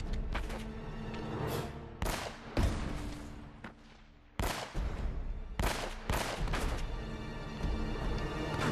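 Loud blasts go off in the video game Uncharted: Drake's Fortune, several sharp shotgun-like bangs separated by brief lulls, each with a quick booming decay, and no talking over them.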